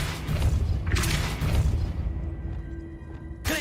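Depulso spell cast in Hogwarts Legacy on PC, a forceful magical blast with heavy booming thumps and whooshing bursts early on, fading to quieter ambience before a sharp final impact.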